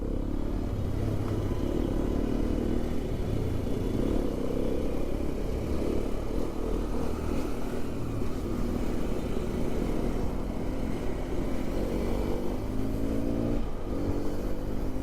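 A 2026 Hero Xpulse 210 motorcycle's exhaust drones steadily and loudly up close during an on-road ride, with a continuous rumbling engine note throughout.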